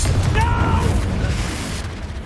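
A Confringo fire spell bursts with a loud, deep explosive boom in the Hogwarts Legacy video game during combat. It gives a heavy low rumble with a brief magical whoosh on top, fading over about two seconds.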